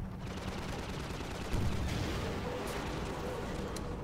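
Gunfire and a blast from the video game Half-Life 2: Episode 1, a dense, loud wash of shots and explosive rumble filling the whole stretch, with a sharper burst about midway and no talk.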